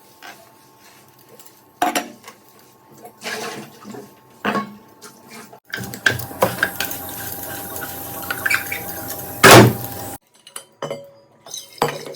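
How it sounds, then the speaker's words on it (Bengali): Dishes clatter and clink while being washed under running water in a home kitchen, with scattered metallic knocks of pots and cutlery, then a loud rush of water filling a bottle; close, busy and without speech. "সব ধুয়ে নিয়েছি জলের বোতলটা ছিল ভরে নিলাম"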